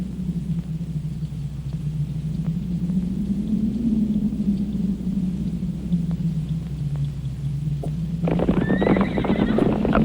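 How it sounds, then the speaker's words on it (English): A band of wild mustangs approaches across open country, a steady low rumble of hooves building beneath, then a sharp, loud whinny with bright overtones breaking in near the end, no voices present. "A band of horses approaches, wild mustangs, as free-roaming as the hawk."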